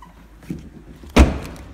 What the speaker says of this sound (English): Pop the boot while we're around the back